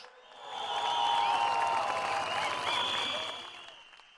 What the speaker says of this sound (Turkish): Halk TV ailesine bir güçlü alkış